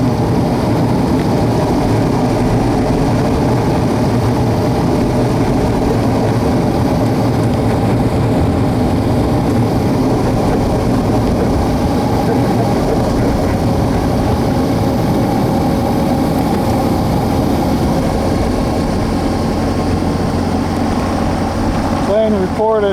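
Droning engine of an airplane near an airfield, a steady low hum lasting throughout while someone speaks over it at length.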